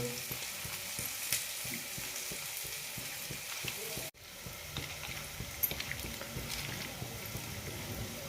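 Onion and garlic frying in a pan for an octopus curry, a steady close sizzle with clattering stirs, briefly cutting out midway before resuming with more spoon scrapes.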